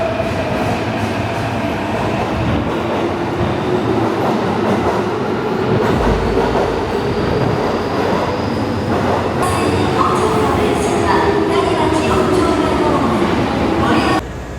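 An Osaka Metro Chuo Line subway train rides along, with a loud steady rumble of wheels on rails, rhythmic clatter and a faint whine throughout.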